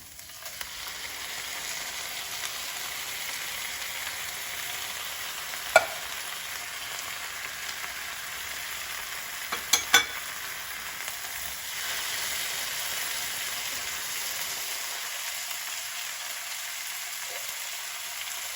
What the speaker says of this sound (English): now I'm going to throw my tomatoes in,